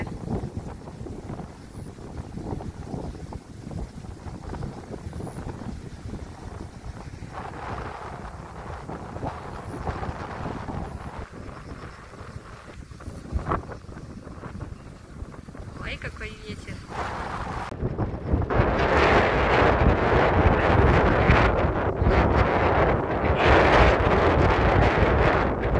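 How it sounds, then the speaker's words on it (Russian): Strong gusty wind the morning after Typhoon Maysak buffets the microphone with a heavy rumbling roar that swells much louder in the second half, with a voice speaking faintly beneath it early on. "только очень ветрено"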